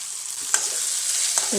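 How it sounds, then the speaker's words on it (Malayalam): Green chillies, curry leaves, onion and tomato frying in a pan for a beef curry, a steady close hissing sizzle with two soft scraping stirs, with no talk. "തക്കാളി ഉള്ളിയെല്ലാം നല്ലൊരു മൂത്തിട്ടുണ്ട് കണ്ടോ"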